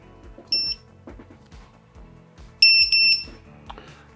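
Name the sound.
FPV drone standalone lost-model buzzer beeping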